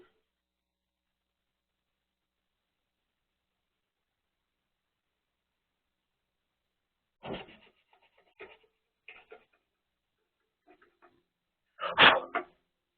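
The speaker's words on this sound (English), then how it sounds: "This is grade 1 steel wool. It'll help take some of these heavier scratches out." Grade 1 steel wool is rubbed over the grille of a 1969 AMC AMX in a few short scratchy strokes, soft and close, with a stronger burst near the end and long silent stretches between.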